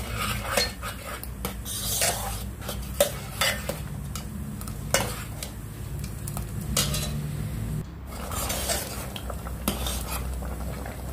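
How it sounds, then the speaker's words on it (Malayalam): A spoon stirs broken wheat payasam in a metal pot, giving steady scraping and clinking strokes with soft sizzling underneath, close and moderately loud throughout. "നന്നായിട്ട് മിക്സ് ചെയ്യുക."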